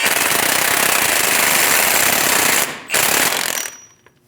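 An impact wrench snugging the axle nut on a 2001-2006 Chevrolet Silverado 2500 HD front knuckle: a loud, continuous rattling burst, a brief dip, a second burst, then it stops.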